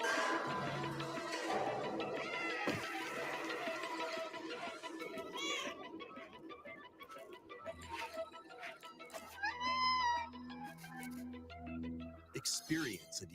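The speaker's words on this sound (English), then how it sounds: "Experience a decaying cyber city through the eyes of a cat separated from their family and friends." Cat meows from the video game Stray, set in a decaying cyber city, rising now and then from a dense, loud mix of game music and effects, with a voice talking over it in places.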